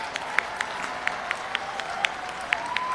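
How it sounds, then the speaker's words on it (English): Applause at the 2022 USC Annenberg commencement ceremony for Bachelor of Arts in Journalism graduates: scattered, fairly distant clapping with individual sharp claps popping out over a low hum of the crowd. "Let's give a round of applause for all of our Bachelor of Arts in Journalism graduates"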